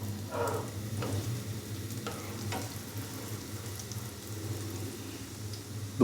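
Besan egg toast, bread coated in a gram-flour and egg batter, fries in a pan as its second side cooks. A soft, steady sizzle runs throughout, with a few light clinks and no talking.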